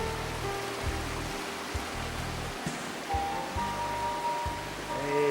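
Cascata della Galgera waterfall at Durlo di Crespadoro, swollen with a great deal of water in May, gives a steady, dense rushing roar throughout, with a low rumbling undertone and no voices.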